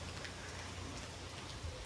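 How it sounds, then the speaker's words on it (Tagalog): Rain falling on a farm in foggy weather, a faint steady hiss of drops with no other sounds. "Pero ngayon, umuulan."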